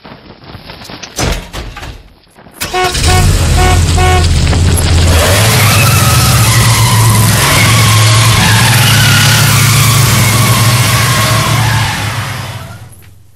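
An odd-looking car drives and skids across a supermarket car park, tyres screeching loudly and continuously over a steady engine roar after a few short knocks and a horn toot, with no talk.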